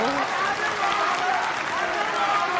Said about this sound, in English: you hear the reaction of the crowd